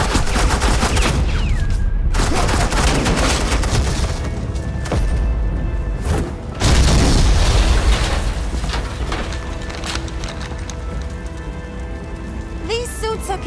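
Rapid suppressing gunfire in the video game Batman The Enemy Within, loud and dense bursts filling the whole stretch with heavy booms, debris crackle and a brief lull near the middle before the firing resumes.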